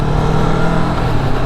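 A Vulcan S motorcycle rides onto a highway from an exit ramp, its engine droning steadily and loudly under heavy wind rush, with no voices.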